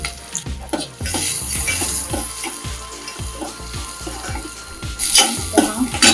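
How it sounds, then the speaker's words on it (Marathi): Chopped onion with curry leaves, cumin and green chillies sizzles in a hot pan, loud and close, with repeated scraping stirs of a spoon punctuating the steady frying hiss. "कांदा आपण व्यवस्थित भाजून घ्यायचा"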